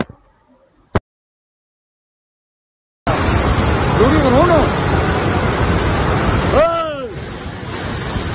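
Surging water of the Kunar river roars loud and steady after a few seconds of near silence, a broad rushing wash with a shrill tone above it and voices breaking through near the end.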